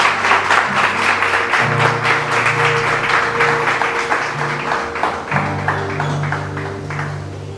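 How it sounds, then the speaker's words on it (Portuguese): A church congregation applauds with sustained, dense clapping from many hands, while an organ or keyboard holds chords underneath, the applause fading slightly toward the end. "Você pode aplaudir o Senhor"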